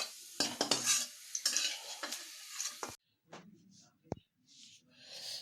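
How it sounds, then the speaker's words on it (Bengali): Chillies and onions are fried and stirred in a pan, with a few seconds of busy scraping and clinks of a utensil against metal, then quieter sporadic taps and a faint sizzle. "লঙ্কা আর পেঁয়াজ ভেজে নিয়ে পেঁয়াজটা দিয়ে দেবো"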